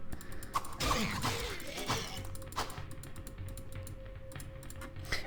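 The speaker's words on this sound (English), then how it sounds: "I don't know if you can hear the clicking constantly." Rapid computer mouse clicks rattle almost nonstop during a session of Diablo, a dense run of close, sharp ticks with a voice talking quietly underneath.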